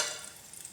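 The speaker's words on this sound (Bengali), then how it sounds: "একটু কালো জিরে ফোড়ন দিয়ে দেবো" Nigella seeds (black cumin) fry in hot oil for a cauliflower curry, giving a brief, steady crackling sizzle close by, with no talking.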